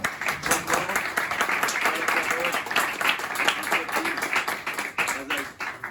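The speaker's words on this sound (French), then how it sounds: "vous allez tous vous lever, vous allez applaudir le Rav Ifrach" An audience at a religious lecture rises and applauds a rabbi, with dense steady clapping running throughout and a crowd murmur and cheering voices mixed in.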